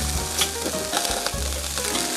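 Porterhouse steak sizzling steadily on a Weber grill right after being flipped, a loud, continuous close-up fry hiss with faint crackles and no talking.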